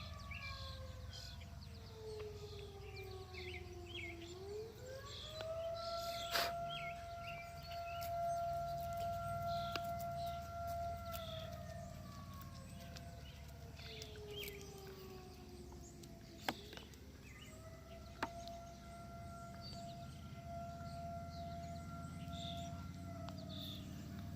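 A distant alarm siren wails in long rising and falling tones, holding steady pitches between sweeps, with faint bird calls and a couple of sharp clicks in the background.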